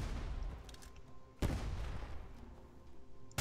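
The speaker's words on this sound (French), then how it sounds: "Ah, mais il tire quand même." Gunfire in the war game The Front during an airfield attack, with distant muffled rattling shots and one sharp, loud report standing out midway, all fairly quiet.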